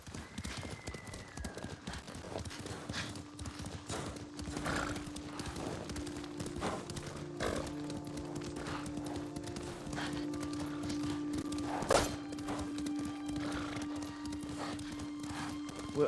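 Horses gallop in a video game, clip-clop hooves beating steadily at mid distance with occasional whinnies, under tonal game music and ambience.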